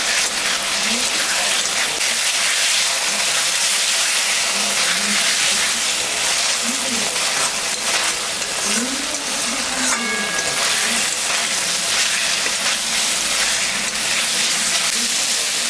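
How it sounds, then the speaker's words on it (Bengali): Spice paste with tomato frying in a pan for a pomfret fish curry, giving a steady, dense sizzle that runs through the whole stretch, with faint tonal sounds drifting over it. "মশলাটা ভাজা হয়ে গেছে"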